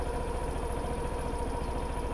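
Suzuki Burgman Street scooter idling at a steady, low putter, a close and even engine drone running unbroken with no one talking.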